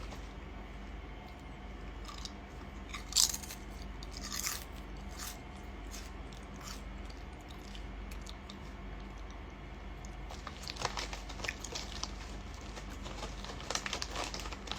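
Lay's potato chips crunched and chewed close by during a live stream, a series of brisk bites and crunches near 3 and 4 seconds, then denser crackly chewing from about 11 seconds on, over a steady low background hum.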